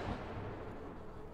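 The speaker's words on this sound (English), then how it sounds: "I just heard a gunshot." A gunshot in The Medium, a horror video game, comes through as a muffled, distant boom blended into a steady low rumble of game ambience, with no talking.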